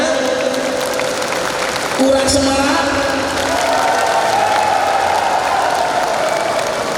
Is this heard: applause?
yes